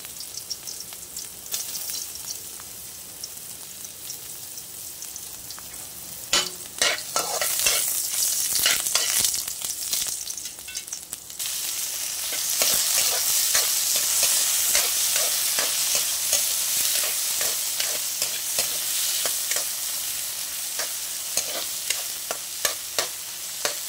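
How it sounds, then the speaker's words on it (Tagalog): Sliced ginger sizzling in hot cooking oil while being stirred, a loud close crackling hiss with repeated scraping knocks of the spatula against the pan, growing denser as frying continues. "mainit na yung mantika. So, lagay na natin yung luya."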